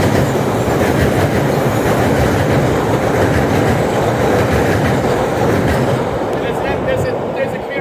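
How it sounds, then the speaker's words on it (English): An MBTA commuter rail train passes on the tracks at Forest Hills Station, a loud, close, continuous rumble and rattle of rolling wheels that fades slightly toward the end. "There's a commuter rail train right behind you."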